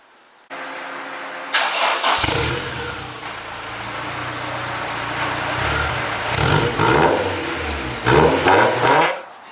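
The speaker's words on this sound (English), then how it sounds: "this is actually one of the quietest exhausts on the market" A Honda S2000 with a Fujitsubo Legalis R dual exhaust cranks and fires up close by, then idles with a smooth, subdued drone and revs several times, with no talking.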